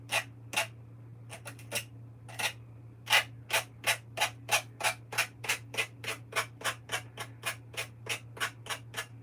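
Wood for a birdhouse is sanded by hand with sandpaper in a quick series of about two dozen crisp, evenly spaced rubbing strokes, close up, over a low steady hum.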